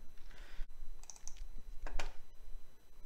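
Short bursts of typing on a computer keyboard, a handful of close, crisp key clicks spread unevenly over a few seconds in a quiet room.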